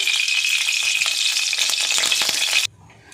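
Mustard oil poured into a hot pan for an egg and soybean curry sizzles and crackles loudly and steadily for a few seconds, then cuts off abruptly into near quiet.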